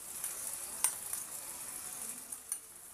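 Sautéed food with crushed salted egg and spices being stirred in a frying pan, a soft steady sizzle with a few faint scrapes and taps of the utensil against the pan.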